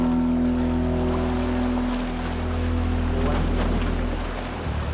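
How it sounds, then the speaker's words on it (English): Strong wind at sea around a dhow off the coast of Mozambique, a continuous rushing roar mixed with water wash and a low steady hum, loud and close throughout. "The wind is too strong here."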